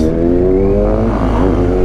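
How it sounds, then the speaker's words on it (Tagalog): A BMW R1250 GS Adventure motorcycle engine drones loudly and steadily at close range, its pitch shifting slightly as it pulls along a bumpy road, with no voices over it. "R1250 Adventure Bike."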